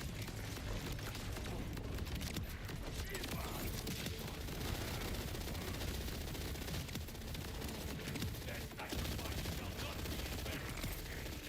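Rapid automatic gunfire from a weapon in the video game Borderlands 4, sustained and loud across the whole stretch in dense bursts, with a voice talking faintly underneath.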